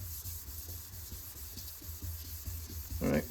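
Sandpaper rubbing over a car's clear coat during scratch polishing, a steady close-up scraping rhythm of short repeated strokes, with a brief louder scrape near the end.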